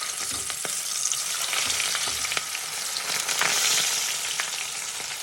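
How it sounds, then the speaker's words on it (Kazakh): Potatoes and sausages fry in hot oil with a steady, close sizzle, broken now and then by sharp spits and pops, with no voices present. "Енді осына қызып тұрған майға жақсылап қуырып алатын боламыз."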